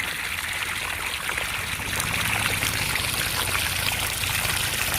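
Unfiltered water flows into a homemade water filter, making a steady, close rushing and trickling sound that runs unbroken throughout with no voices.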